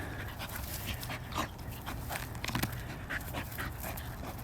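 A dog pants steadily outdoors on a cold day, with a few faint whimpers rising over the breathing; no one speaks.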